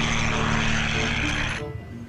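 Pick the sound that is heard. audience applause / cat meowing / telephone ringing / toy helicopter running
toy helicopter running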